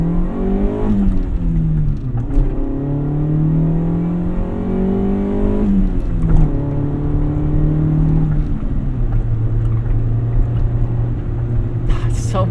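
A 1988 Honda CRX Si drives along with its engine note climbing and falling through repeated gear changes, a steady loud hum and whine heard from inside the car.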